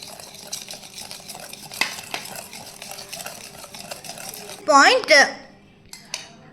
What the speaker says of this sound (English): Now slowly add milk. And keep stirring.